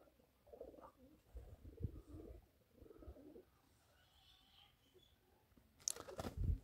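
Courting pigeons give several soft, low cooing phrases at intervals, quiet and nearby, ending with a brief louder rustle or flutter.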